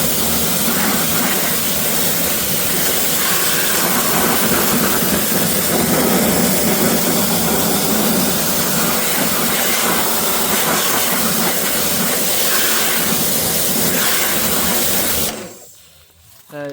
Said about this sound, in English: I'm just going to pressure wash the wheels off